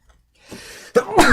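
A single close, loud sneeze: a short breathy intake builds, then bursts out sharply.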